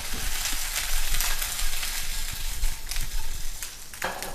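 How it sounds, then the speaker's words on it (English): Green beans and garlic sautéing in a hot pan, a loud close sizzle that rises and falls, with a few clatters from stirring. "I'm going to add the green beans, and they're just going to be in there to saute a little bit."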